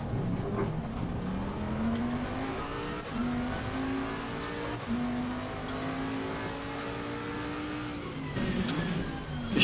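A race car engine in Assetto Corsa Competizione, at Donington, drones steadily with rising and falling revs as the car heads into the pit lane. The note is loud and continuous, with brief shifts in pitch and no talk.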